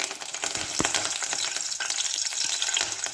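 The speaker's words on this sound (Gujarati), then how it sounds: "આપણું તેલ ગરમ થઈ ગયું છે. હવે આપણે તેમાં લીમડો ઉમેરીશું" Curry leaves hit hot oil in a pan and crackle with a steady sizzle and spitting pops, close up and unaccompanied.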